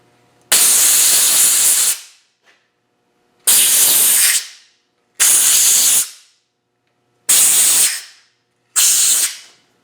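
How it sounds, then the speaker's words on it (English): Five sharp bursts of compressed air from an airline blow out the holes in a hub during a Land Rover 90 300Tdi hub and disc rebuild, each loud, close hiss lasting one to two seconds with short quiet gaps. "just going to get the airline. Oops. Blow out the holes."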